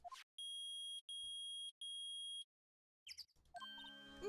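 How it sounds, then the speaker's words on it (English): A metal detector in the Phoenix Wright Ace Attorney video game beeps in three long, loud, steady electronic tones separated by short gaps, followed by chiming game sound effects. "It's beeping! The metal detector's found something!"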